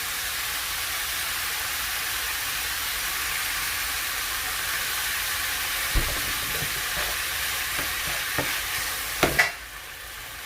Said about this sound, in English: I'm gonna add like a tablespoon of garlic.